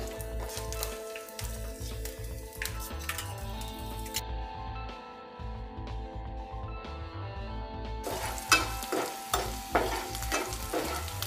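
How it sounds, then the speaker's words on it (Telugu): Chopped garlic and ginger frying in hot oil in a pan for an Indo-Chinese chilli baby corn starter, a steady close sizzle with repeated stirring scrapes and light clinks throughout, no talking. "దీనిలో మనం చిన్నగా కట్ చేసి పెట్టుకున్న వెల్లుల్లి అల్లం ముక్కలు వేసుకోవాలి"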